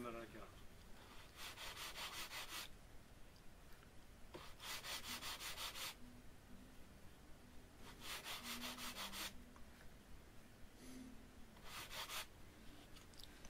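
A sanding block works a 45-degree bevel on wood in four rhythmic bursts of close, steady rubbing strokes, separated by brief pauses of quiet.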